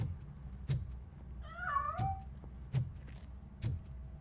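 A cat in the Robocop Rogue City game gives one clear, wavering meow, quiet and close, between scattered soft thumps with no one speaking.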